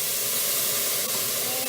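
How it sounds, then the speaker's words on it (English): Broth poured into toasted risotto rice hisses and sizzles steadily in a hot pan, a close, continuous frying noise with no talking. "And you can hear it sizzle."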